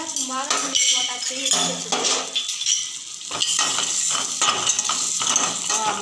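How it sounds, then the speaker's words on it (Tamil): Cashews and almonds roasting in a pan with cardamom, metal spoon clinking and scraping against the pan over light sizzling, with a voice talking partway through. "பாதாம் முந்திரி வறுக்கிறோம்"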